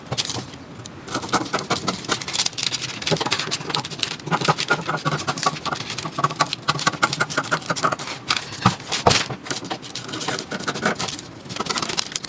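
Scissors snip steadily through a paper corset pattern, a continuous close rustle of crisp cuts and paper handling that runs the whole time with no talking.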